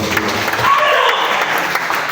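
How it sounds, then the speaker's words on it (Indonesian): Church congregation at a Sunday morning service applauding together, a steady dense wash of many hands clapping at even loudness through the short stretch, with faint voices mixed in. "kita berikan tepuk tangan sekali lagi"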